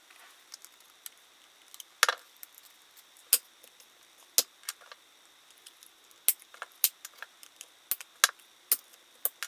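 Scissors snip around a black section to neaten it, giving sharp, sparse clicks and cuts at irregular intervals over a faint background hiss.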